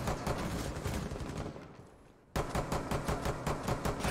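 Rapid bursts of pistol gunfire in the Rainbow Six Siege video game, loud and close, with a sharp series of repeated shots, a brief lull, then another dense volley.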